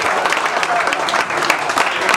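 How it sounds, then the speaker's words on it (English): A gala audience at Clemente's, honoring Brooklyn Mariners team members, gives a steady round of applause, a dense wash of clapping with some crowd noise underneath. "they deserve a big round of applause"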